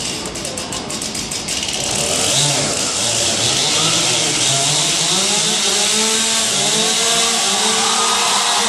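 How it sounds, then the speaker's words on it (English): Several chainsaws idle and rev together at a lumberjack competition show, a loud continuous droning roar with shifting engine pitches and no voices. "we're going to give these men a moment to warm up those chainsaws"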